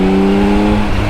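A 2024 Yamaha XSR900 motorcycle engine runs in a brief, loud, close, steady drone that dips slightly in pitch near the end, with no voices.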